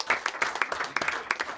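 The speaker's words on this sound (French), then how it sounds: "on applaudit Soun" A studio audience applauds on a French talk show, a short round of scattered claps from a small group, close and moderately loud, lasting under two seconds.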